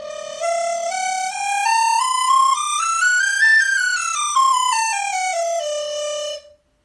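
A Chinese bamboo flute playing a smooth, clear melody that rises in pitch and then falls, one sustained whistle-like line heard alone and close, lasting several seconds before stopping abruptly.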